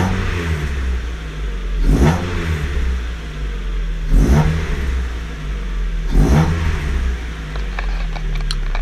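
A 1999 Mazda MX-5 Miata 10th Anniversary Edition on a cold start, loud and close, its engine revving up in three distinct surges about two seconds apart over a steady idle rumble.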